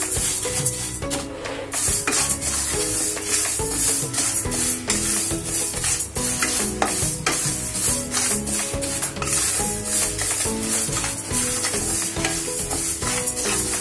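Bhajani flour mix roasting in a pan for chakli, stirred steadily with a soft continuous scraping sizzle, close and even throughout, with music-like tonal layers running underneath.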